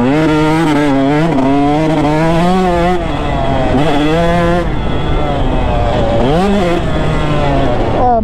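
A two-stroke motorcycle engine held wide open, a loud, close, continuous rasping whine with rising and falling pitch as revs climb and dip, including a sharp rev swoop near the end.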